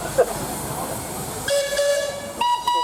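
Steam engine whistles sound in short bursts at a steam rally, a sustained high tone joined by a second shrill blast near the end, over background hiss.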